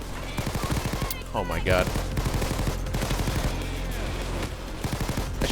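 Rapid bursts of automatic fire from a Chicago Typewriter Tommy Gun SMG in Payday 2, close and loud, rattling in quick repeated volleys while a man briefly exclaims over the shooting.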